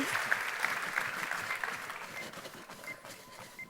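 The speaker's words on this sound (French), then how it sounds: "On peut l'applaudir, s'il vous plaît" Audience applause at a talk about extreme fatigue and ultra-trail running, a steady patter of clapping hands spread across the room, moderately loud and continuous throughout with no voices over it.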